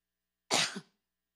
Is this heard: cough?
yes